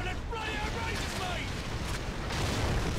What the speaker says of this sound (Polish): Ale to pięknie wybucha.